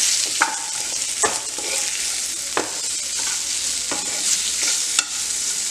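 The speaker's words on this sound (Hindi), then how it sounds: "और अच्छे से इसको मिक्स करेंगे।" Chopped potato pieces fry over low gas in a pan for fasting dosa, with a steady hiss of sizzling oil and several sharp scraping clicks as a spatula stirs them at irregular intervals, close and clear with no talking.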